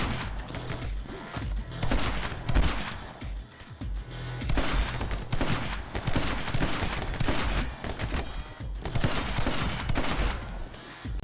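Dense video game gunfire from My Friend Pedro, loud and continuous in clustered bursts with thuds and ricochet-like clatter, bullets bouncing back at the shooter.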